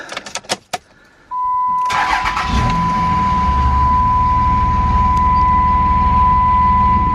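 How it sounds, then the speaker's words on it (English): A 2004–2009 Dodge Ram truck starts up close by: a few clicks and clunks, a chime tone, then the engine cranks and catches into a loud steady idle. "I'm gonna go back to the truck, fire it up, see if the light's off"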